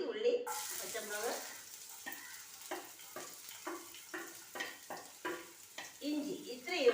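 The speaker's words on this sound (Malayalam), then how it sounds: "ഇഞ്ചി ഇത്രയും ഇട്ട് നല്ല ഗോൾഡൻ കളറിൽ വറുക്കുകയാണ്" Chopped onion, green chilli and ginger fry in hot coconut oil with mustard seeds and dried chilli, sizzling steadily while a spoon stirs in a regular rhythm of scrapes, close up and loud.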